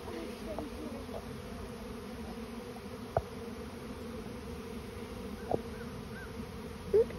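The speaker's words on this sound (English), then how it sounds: "So there's some bees fanning." A steady, dense buzzing of many honeybees fanning close by at a bait hive as a swarm moves in, a continuous hum with a few brief clicks and knocks scattered through it.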